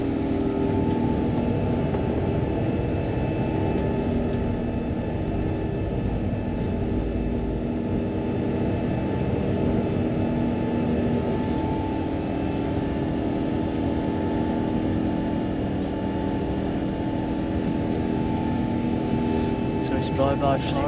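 Virgin Atlantic Airbus A350-1000 airliner climbing out of Orlando just after takeoff, heard from inside the Upper Class cabin as a steady, loud engine roar with a constant hum, running unbroken throughout.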